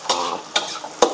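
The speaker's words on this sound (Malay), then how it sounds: "Bila kita nak goreng telur ni, kita kena goreng tepi je." An egg fries in a pan alongside kway teow noodles, a close, crackling sizzle punctuated by three sharp scraping stirs of the spatula.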